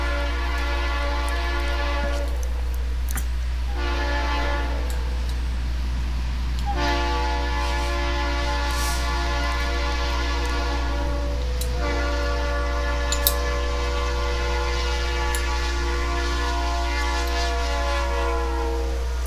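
An eastbound Conrail freight train on the Chicago line sounds long, loud, chord-like horn blasts with short gaps between them, over a constant deep engine drone.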